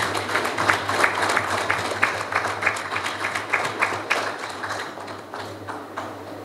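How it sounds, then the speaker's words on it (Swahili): Light, scattered clapping from a small audience at a Simba club sponsorship announcement, a handful of hands beating unevenly over a steady low hum, moderately near and not very loud. "Makofi machache."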